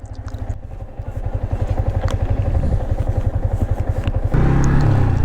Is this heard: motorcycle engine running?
yes